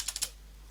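Several quick, light keystrokes on a computer keyboard as a Linux terminal command is entered, close and clear, in a short burst.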